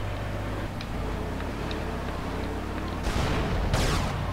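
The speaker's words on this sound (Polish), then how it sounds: "Coś tam wybuchło." Explosions in Grand Theft Auto: Vice City during a ride in the Rhino tank, a steady low engine rumble broken by two heavy booming blasts near the end.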